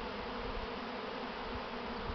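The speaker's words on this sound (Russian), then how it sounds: "Много вот, много пчелок по траве сидит." A honeybee swarm settled on grass fills the air with a steady, dense buzzing, close and continuous throughout, with no talk.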